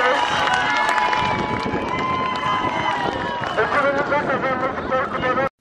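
Schoolmates at a medal ceremony clap and cheer in a dense, loud crowd for several seconds. A noisy babble of voices runs through it, and the sound cuts off abruptly at the end.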